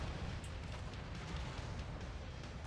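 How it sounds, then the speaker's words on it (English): Mech ammunition cooking off in MechWarrior 5, a faint, continuous rumbling blast texture with scattered pops and crackles lasting throughout, no voices. "Oh, there's ammo explosion. I think that just occurred."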